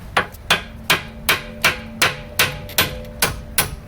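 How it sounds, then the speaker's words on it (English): Hammer striking a vehicle's suspension, around ten sharp metallic blows in an even, steady rhythm, close and loud with short ringing after each hit. "Get the hammer."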